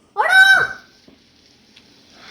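A chicken attacks in the video game Raft, letting out one loud, close, harsh squawk that fades after about half a second, followed by faint clicks.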